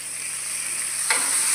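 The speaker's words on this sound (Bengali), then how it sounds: "আর এটাকে আমরা ভালোভাবে নাড়িয়ে চাড়িয়ে নিয়ে এটার মধ্যে দিয়ে দেব কেটে রাখা টমেটোগুলো।" Aloo gobi with turmeric being stirred in a hot pan, a steady close sizzle with a single scrape of the spoon near the end.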